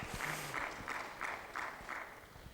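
An audience at an inauguration ceremony claps in rhythmic bursts, roughly six evenly spaced swells of applause, moderately distant and without voices.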